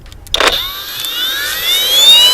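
A Procraft PWA216 brushless cordless angle grinder on a fully charged battery spins up after a sharp click, its motor whine rising steadily in pitch and holding loud and close.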